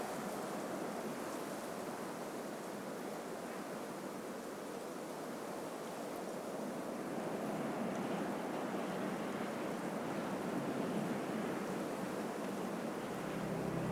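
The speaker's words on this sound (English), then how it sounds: "The persistent wind finally drives away the cloud cover" Steady wind sweeping high ground near Chimborazo volcano in Ecuador, a constant broad rushing roar with no break, moderately faint and even, no voices.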